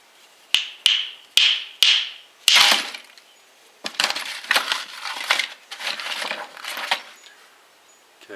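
A stone striker knocks against flint to break off thin flakes: five sharp ringing taps with short decays, then a run of gritty crunching and scraping strokes, close and alone without talk.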